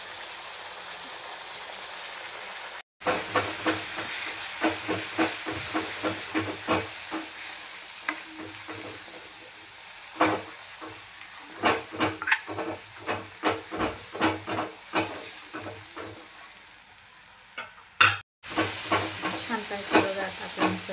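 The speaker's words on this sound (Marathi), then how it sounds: "गॅस फुल करून आपण याला परत छानपैकी असं परतून घ्यायचं आहे" Spice masala for a surmai fish curry sizzles and hisses steadily in a hot pan over a full flame, with frequent scraping and stirring clicks layered over the continuous frying.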